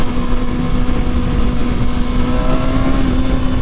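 A Kawasaki ZX6R sport motorcycle engine runs in third gear on an open road, a steady loud drone with a constant tone and no clear rise in pitch, heard up close with no talking.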